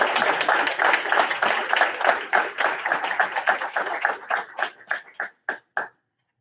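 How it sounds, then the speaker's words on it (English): Audience members clap at a township council meeting, a dense round of applause that thins out into a few scattered, sharp individual claps before stopping. "You can clap for Brian."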